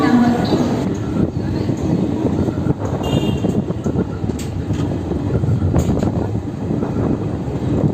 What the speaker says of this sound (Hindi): ये कसारा रेलवे स्टेशन से निकलती हुई